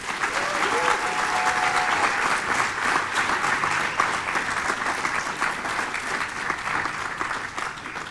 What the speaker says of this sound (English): one more round of applause for the Technical University of Denmark